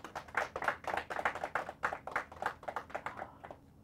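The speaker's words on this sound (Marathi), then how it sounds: "जोरदार टाळ्या." A studio audience at a Marathi quiz show semi-final breaks into brief, lively applause of dense hand claps that thin out and fade within a few seconds.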